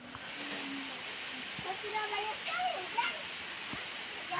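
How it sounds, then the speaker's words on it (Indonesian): Afternoon rain falls steadily in a rural village garden, making a continuous, dense hiss with faint scattered patters and occasional soft knocks close by. "Ini tuh lagi hujan."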